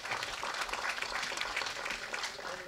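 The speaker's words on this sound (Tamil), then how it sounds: "இந்த நேரத்தில் படத்தை கரகோஷம் கொடுங்க." Audience applause at a Tamil film event, a dense sustained crowd clapping heard at moderate distance, steady throughout with no clear voices.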